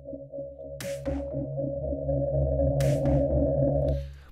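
Metallic, sustained ring-modulator synth drone with stacked harmonic tones and a low rumble, punctuated by two bright noisy bursts; loud and steady, no voices.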